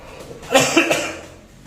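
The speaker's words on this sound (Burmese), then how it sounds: "ချောင်းဆိုးတယ်နော်" A man coughs a few times at close range during a talk, a short burst of dry coughs that fades into quiet.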